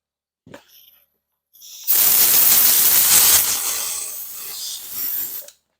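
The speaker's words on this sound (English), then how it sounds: "And then we'll spray it out with air." Compressed air blasts over a mud-caked Honda Foreman TRX 450 ATV part just sprayed with brake cleaner, a loud steady hiss lasting a few seconds after a brief quieter puff, then tapering off.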